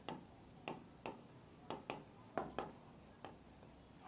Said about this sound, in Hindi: यहाँ पर मैं तो लिखता हूँ